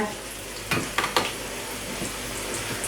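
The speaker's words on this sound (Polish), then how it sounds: "się ładnie smażą i następne dokładam do smażenia" Steady frying sizzle of mushroom cutlets in a pan, with a few sharp clinks of a utensil near the start.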